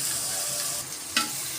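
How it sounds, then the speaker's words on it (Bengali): Salted onion frying steadily in a pan, a soft continuous sizzle close by, with one brief scrape of a spoon stirring near the end and no voices. "ভালো করে ভেজে নিচ্ছি পেঁয়াজটা"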